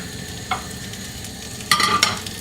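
Eggs in a pan over a gas flame, a soft steady sizzle with a few brief scraping and stirring clatters, close and alone without talk.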